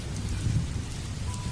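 Steady rain falls through a dark night, a dense low rumbling wash with a faint distant roll of thunder mixed in, constant and unbroken with no voices.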